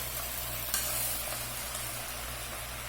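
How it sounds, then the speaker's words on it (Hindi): Potatoes and beans fry in a pan over a low flame, giving a steady, dense sizzle that runs evenly throughout with a steady low hum beneath it and no voices. "ये मैंने इसमें आलू डाल दिए इसको जब 2 मिनट के करीब हो जाएं ये अच्छे से इसमें फ्राई हो जाएंगे"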